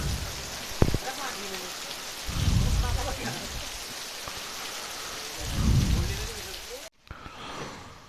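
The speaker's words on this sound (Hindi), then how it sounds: "बहुत ही तेज़ गरज के साथ बारिश हो रही है" Heavy rain with hail pours steadily in Nainital during a March storm, while deep rolls of thunder swell twice beneath the constant hiss, loud and close.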